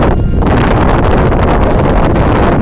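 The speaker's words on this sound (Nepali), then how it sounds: "एकदम चिसो हावा चलिरहेछ होइन।" Cold wind gusts across a hilltop on the way to Sherpa Hill, roaring steadily and loudly against the microphone as a constant broadband rush with no pauses.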